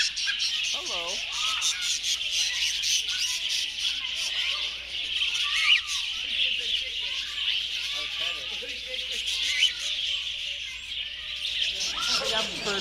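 Birds chirp and call repeatedly at an interactive bird display in a Texas wildlife park, steady high twittering close by with some bursts of squawks, while people talk nearby.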